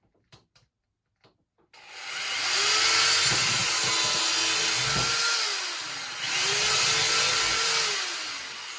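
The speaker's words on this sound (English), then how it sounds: "so now I have my 4 holes drilled" A power drill bores holes into a bodyboard for fin mounting, a loud, sustained whine in two long passes after a few soft taps, with a brief dip between them.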